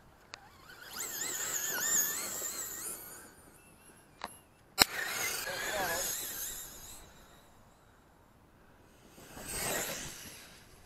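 Traxxas Rustler and Bandit RC cars run at full throttle outdoors, producing high-pitched electric motor whines that swell and fade as they pass at a distance, with occasional sharp knocks and a speaking voice.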